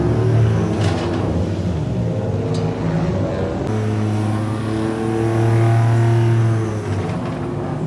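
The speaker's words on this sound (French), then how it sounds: "Drapeau vert, la voiture elle part, et toutes les voitures aussi." Several GT4 race car engines roar and rev together nearby at a green-flag start at Magny-Cours, one accelerating hard with rising pitch as others join in, loud and continuous.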